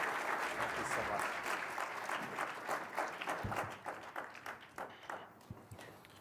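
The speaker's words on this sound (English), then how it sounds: "I think you also heard a warm applause that your call to action was well received" Warm audience applause fills a large hall after a speech by the UN Secretary-General at the World Economic Forum annual meeting, loud and dense at first, then thinning into scattered claps as it fades out.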